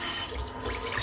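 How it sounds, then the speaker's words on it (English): Water splashes onto shaving soap as a brief, close, steady trickling pour during a head shave. "I'm just going to pop a little bit of water on top of the soap."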